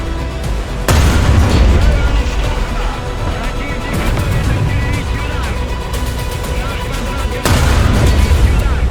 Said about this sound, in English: Artillery starting to be dropped on our MBT participant